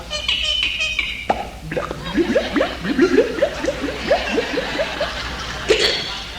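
A man vocally mimics water gurgling out of a bottle after its cork is pulled. Rapid bubbly glugs repeat in a bouncing rhythm, close and clear, with a pop-like sound near the start.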